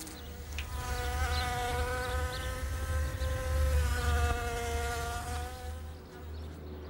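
A founding queen wasp, newly out of hibernation, buzzes in flight with a steady, close harmonic drone that wavers slightly in pitch and holds throughout, alone without any voices.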